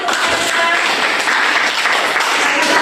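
A classroom of students applauds after a group's physics presentation on temperature, a steady dense wash of clapping that holds evenly throughout at a close, lively level.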